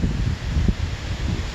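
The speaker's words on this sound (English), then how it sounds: "and it is windy" Wind blowing outdoors at dusk, a low rumbling buffet against the microphone with soft rustling, steady and unbroken with no voices.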